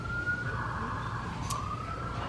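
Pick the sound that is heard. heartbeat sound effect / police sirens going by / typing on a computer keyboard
police sirens going by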